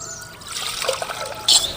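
Half a tumbler of water poured into a cooking pot on the stove while making traditional bitter gourd curry, a short close trickling splash that swells louder near the end.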